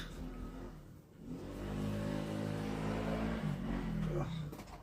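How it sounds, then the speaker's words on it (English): A rumbling engine drones and swells as noisy motorbikes pass outside open doors, a continuous loud revving hum filling the space. "And we have noisy motorbikes around."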